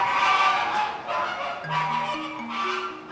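Caribbean flamingos in a zoo enclosure, a flock honking and gabbling in repeated loud bursts close by, with a few clear sustained calls rising in pitch, no voices.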